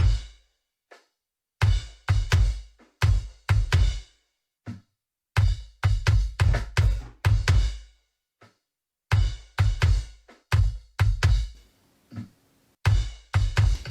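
Rock kick drum from an alternative rock mix, with gated mono ambience added to the other kick sources, hitting in punchy irregular bursts with short gaps between them, loud and up close with no other instruments.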